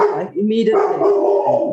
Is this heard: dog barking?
yes